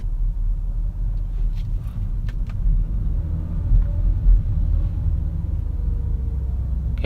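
A car engine rumbles steadily at low pitch while driving in manual mode, a constant road drone heard from inside the cabin.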